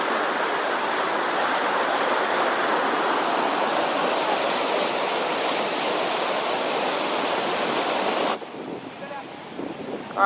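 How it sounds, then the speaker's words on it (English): Pilot Creek Falls waterfall roars as a loud, steady wash of falling water mixed with wind buffeting the microphone, continuing unbroken for several seconds before cutting off sharply near the end. "I guess it's called Pilot Creek Falls."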